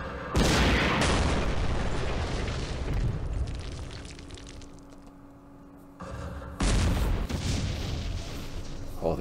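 Heavy booms of shooting and explosions at tanks in the wargame Campaign Series Middle East, two loud blasts with rumbling tails separated by a quieter lull.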